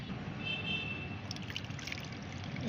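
Water from steeped tea leaves, mixed into about three litres of water, is poured through a strainer, giving a steady, close trickle and splash that runs without pause.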